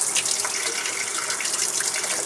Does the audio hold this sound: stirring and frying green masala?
no